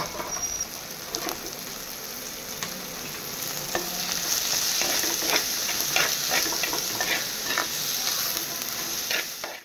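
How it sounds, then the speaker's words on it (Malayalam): Onions sizzle in hot oil in a pan, a steady close frying hiss that grows a little fuller as it goes, punctuated by soft scraping and clicking stirs. "അത് കഴിഞ്ഞ് നമ്മൾ ആവശ്യത്തിന് ഇതേ സവാള അതിനകത്തേക്ക് ഇട്ട് കൊടുക്കുന്നുണ്ട്."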